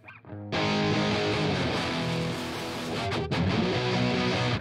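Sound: tube preamp emulation plugin distortion

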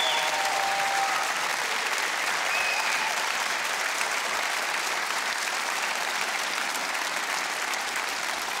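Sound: studio audience applause

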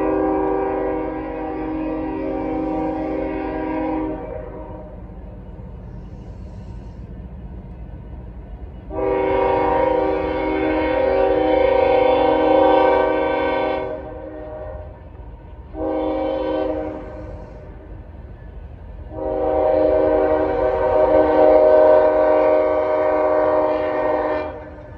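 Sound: train passing with horn

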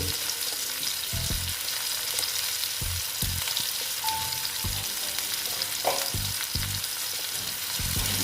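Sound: cumin and coriander powder frying and stirred in pan

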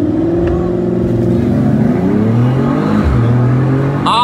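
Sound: Ford Mustang and Mercedes E53 AMG accelerating in drag race

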